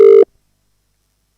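A single short, loud telephone dialing tone sounds once while a dropped call is redialed, then cuts to silence.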